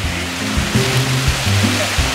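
A small stream in the Thames Watershed flowing over a barrier near a wetland, a steady close rushing and gurgling of water with broadband noise and no talk.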